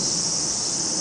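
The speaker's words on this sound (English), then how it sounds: "With the fresh breeze under the trees, cicada chirping" Cicadas chirp in a garden under trees on a summer afternoon, a steady, dense high-pitched drone that runs unbroken and fairly loud with no voices.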